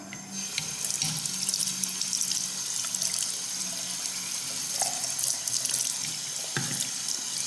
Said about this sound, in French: après on rince bien